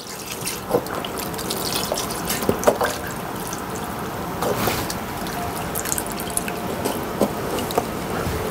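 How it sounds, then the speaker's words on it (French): Unthickened veal stock is poured into a pan after a reduction, giving a steady liquid trickle with scattered drips and splashes throughout, fairly close and moderate in level, with no voices. "Nous allons mouiller avec le fond de veau ici non lié."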